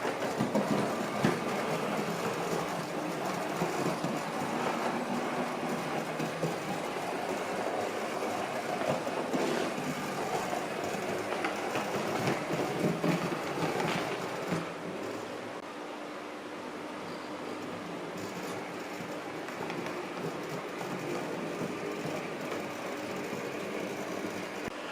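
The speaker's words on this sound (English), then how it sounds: "the loco's freed now from its train, so it can return to the engine shed to be serviced for its next turn" A steam locomotive at Whitby station, uncoupled from its train, runs toward the engine shed with a faint, distant, steady rumble and hiss under broad background noise that quiets partway through.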